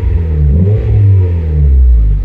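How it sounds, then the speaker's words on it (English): A car engine revs up and settles, a loud, close mid-pitched roar with rising and falling harmonics over a rumbling idle, heard on its own. "give it a bit of a rev"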